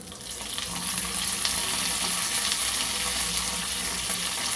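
Curry leaves sizzle loudly in hot oil with chana dal, urad dal and mustard seeds for a yellow rice dish. The frying is a dense, continuous crackle throughout, with no talking.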